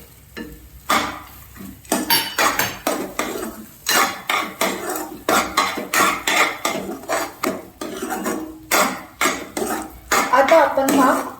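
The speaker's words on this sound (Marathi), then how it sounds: "पूर्णपणे रवा एकजू करून हलवून घेतलेला आहे" Semolina and dry fruits stirred in a metal pan, a spoon scraping and clinking steadily in rapid repeated strokes, close and fairly loud with no talking.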